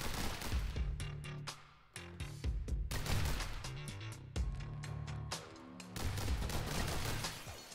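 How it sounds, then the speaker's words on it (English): Pistols fire in the video game The Hong Kong Massacre, sharp shots cracking out in rapid bursts with short pauses between volleys. "I'm going with the pistols"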